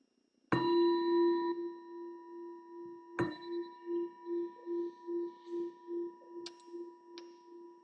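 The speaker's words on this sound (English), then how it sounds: "So the bell invites us to bring the awareness back to the surface" A meditation bell is struck twice, each a clear ringing tone with a long pulsing, wavering decay, then a couple of faint light taps, in quiet surroundings.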